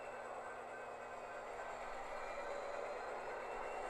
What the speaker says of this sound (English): Train 140 is now passing the Mount Vernon station and heading over the Skagit River Bridge.